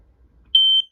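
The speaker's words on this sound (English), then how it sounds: "the last things for real this time is going to be smoke detector" Smoke detector in a 2023 Forest River Wildwood 42FLDL RV trailer giving a single loud, shrill piercing beep lasting about a quarter second after near silence.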